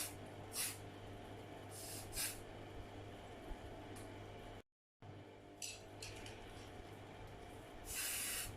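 Short hissing bursts of spray paint come through letter stencils in a mixed-media art session, several quick sprays spaced apart and one longer spray at the end, close and fairly soft over quiet room noise.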